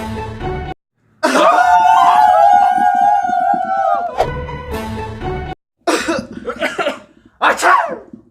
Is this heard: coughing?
yes